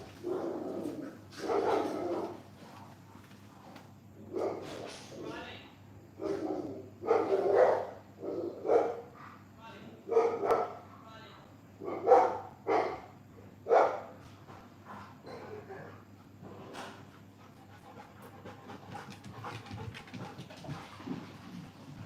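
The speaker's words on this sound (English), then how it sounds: "there happens to be a dog going past at the same time" A dog passing by barks repeatedly in irregular bursts, some louder and nearer, others softer. The barking runs for about twenty seconds over a low indoor hum and fades toward the end.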